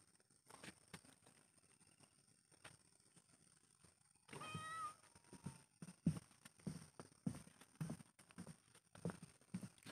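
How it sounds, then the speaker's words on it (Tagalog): A cat gives a short meow amid quiet outdoor surroundings, followed by soft scattered footsteps and light knocks at close range. "Kasama natin guys ang pusa na bago kong nakilala."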